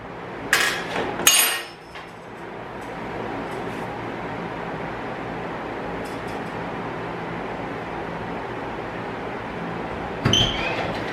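Two brief rattling bursts from a WAKYME 21V half-inch cordless impact wrench set to 250 ft-lb, hammering at a fastener near the start, then a steady hum and another short burst near the end.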